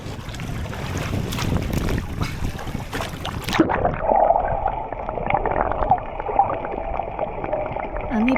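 A boat ride out of Maya Bay, Phi Phi Island, on a snorkelling trip: a loud rush of wind and engine noise that turns into a muffled, droning hum partway through, close and continuous.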